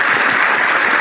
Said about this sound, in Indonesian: Tepuk tangan atau apa gitu lah